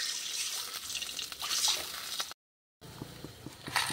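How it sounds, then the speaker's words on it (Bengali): Water is poured into a cooking pan over browned onions for Maggi noodles in a village kitchen, a close, continuous splashing and sizzling that breaks off briefly before dripping resumes. "আমি এখানে জল দিয়ে দিলাম।"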